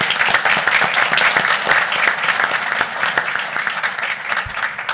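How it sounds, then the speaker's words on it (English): A room full of people at a city council meeting breaks into applause, sustained dense clapping that holds steady and fades slightly toward the end. "Could we get a round of applause for that?"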